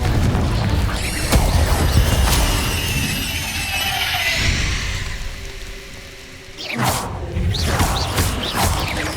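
Confringo fire-blast spell going off in the video game Hogwarts Legacy: heavy booming explosions with rushing whooshes and crackling debris, loud and sustained, a brief lull, then another burst of blasts, no speech.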